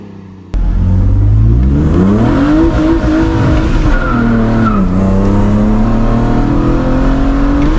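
BMW E30 330i engine revving hard as the rear wheels spin and squeal while cornering, a loud continuous rising and falling engine note with tire screech, close and alone.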